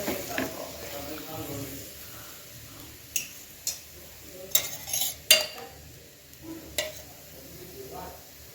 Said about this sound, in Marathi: असं तेल सगळीकडे लावून घ्या तुम्ही, जेणेकरून परोठा चांगला खमंग आणि खुसखुशीत भाजला जावा.